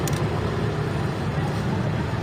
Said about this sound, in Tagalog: Oh, mukhang okay pa naman yung makina niya.